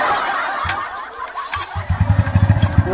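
A motorcycle engine catches and settles into a rhythmic, chugging low putter after a few seconds of ambient noise and brief clatter, fairly close and moderately loud.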